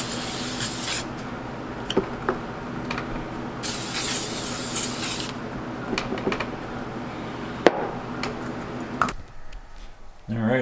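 Air filter cleaner sprayed onto a motorcycle air filter during a GSXR spark plug and filter change, heard as bursts of broad hissing spray, one long stretch in the middle, amid handling clatter before it cuts off.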